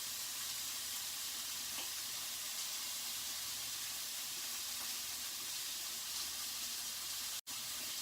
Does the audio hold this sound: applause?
no